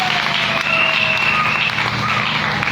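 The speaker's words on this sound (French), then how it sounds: "S'il y a la joie, manifeste-la par les acclamations." Congregation at a church deliverance service bursting into sustained applause and joyful acclamations, a dense, steady wash of clapping with high shrill cries or whistles rising above it.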